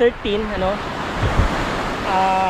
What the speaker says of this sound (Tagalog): dito po tayo sa tabing dagat